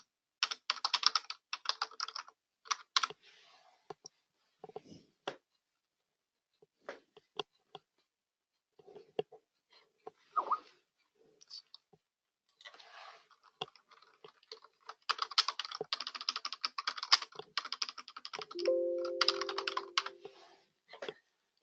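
Clicks from a computer keyboard come in quick irregular bursts with short pauses between them, close and fairly quiet, with no talking.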